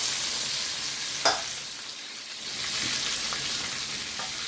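Chicken pieces frying in hot oil, a steady close-up sizzle and crackle with one sharp clink from a utensil partway through, no voices.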